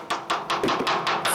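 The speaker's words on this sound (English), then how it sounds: "This kind of job we call hammering to find the position of the frame." A hammer taps on the steel hull of an oil rig underwater to locate a structural frame, giving about six evenly spaced sharp knocks in quick succession.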